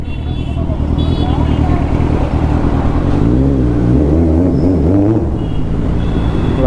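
Kawasaki Ninja 1000 superbike with an aftermarket silencer, its 1000 cc engine rumbling at idle and then rising in a few revs, close and loud, with someone talking over it.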